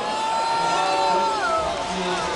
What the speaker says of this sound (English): There's a lot of booing going on, but not from the Korean fans.